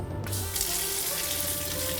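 Water bursts from a shower in a Conqueror UEV-19 off-road camper trailer on a freezing morning, rushing and splashing in a steady close stream.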